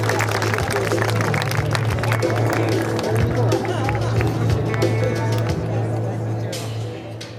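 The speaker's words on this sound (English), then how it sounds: "How about a very nice round of applause, Las Vegas, for Mr. Bill Stein." A large outdoor crowd at the Nellis Air Force Base air show claps and cheers in a steady, dense wash under a constant low hum, fading slightly toward the end.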